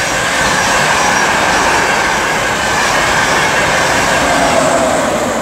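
Flying Scotsman, a class 91 electric locomotive numbered 91-101, rushes nonstop through a station on the East Coast Main Line with a loud, steady roar of wheels and rail noise filling the whole stretch.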